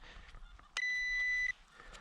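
A metal detector sweeping a field beside a road gives a single sustained electronic beep about three-quarters of a second long, loud and clear over quiet background rustling.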